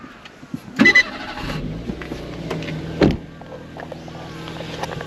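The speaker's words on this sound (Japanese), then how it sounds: "ちょっと今エンジンつけてみたんですけど、こういう感じですね。" A modified Daihatsu Copen's engine cranks and catches with a loud burst, then settles into a steady idle, with another sharp mechanical clunk a couple of seconds later.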